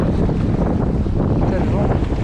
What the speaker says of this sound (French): Quel vent.